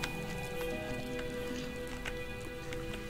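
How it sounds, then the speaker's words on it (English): Rain falls steadily in the Minecraft video game, a constant patter with scattered drop ticks alongside faint tonal game sounds, with no talking. "Oh, by the way, it's raining."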